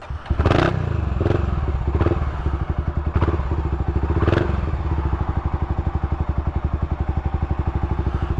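A 1990 Honda GB500TT single-cylinder motorcycle is kicked back into life, with several sharp thumps and clattering crank attempts before the engine catches into a loud, rapid, steady thumping idle close by.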